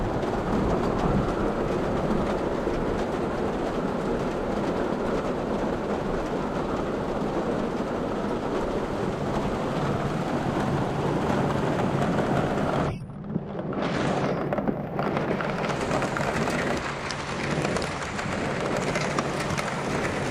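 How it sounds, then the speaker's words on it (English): Heavy rain pours steadily outside a vintage camper in the woods, a dense continuous wash with low rumbling that may be thunder, with a brief dip in the noise partway through and no talking. "Raining pretty bad out there. Got some lightning and thunder as well."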